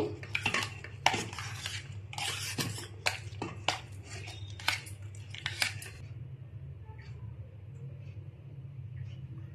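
Set cream churned forcefully by hand in a vessel to make ghee, giving busy clattering scrapes and knocks in quick bursts over a low steady hum, then easing to quieter background after a few seconds.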